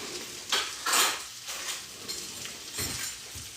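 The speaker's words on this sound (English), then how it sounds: "I'm gonna give it a quick stir and our corn salsa will be done" Quick stirring of corn salsa seasoned with garlic salt, a spoon scraping and clinking against a bowl in several short, close bursts with quiet pauses between.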